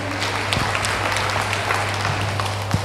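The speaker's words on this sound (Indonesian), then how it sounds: "Sekali lagi kita aplaus untuk acara ini" Crowd applauding at an Indonesian event, a steady, moderately loud patter of many hands clapping for about three seconds, with an electrical hum running underneath.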